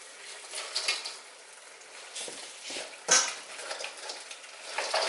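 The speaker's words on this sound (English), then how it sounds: "I'm also adding mussels, calamari, scallops" Mussels, calamari and scallops sizzle softly in a pan for a seafood paella, a faint steady frying hiss broken by occasional clinks and scrapes of a utensil against the pan.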